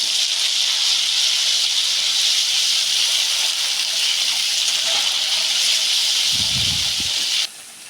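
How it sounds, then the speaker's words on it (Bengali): Spices tipped into fried onions in a hot pan for a chana masala hiss with a steady, loud broadband sizzle that holds for about seven seconds and then cuts off abruptly, with a low thud near the end. "পেঁয়াজ ভাজা হয়ে গেছে, এবার আমি মশলাটা দিয়ে দিচ্ছি।"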